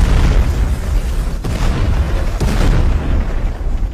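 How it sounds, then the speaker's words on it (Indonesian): A factory blows up in a violent explosion in an Indian action film, a loud sustained roar of booming blasts with sharp bursts, rumbling on alone for several seconds. "Pabrik tempat Sahadep pun meledak dengan sangat dahsyat."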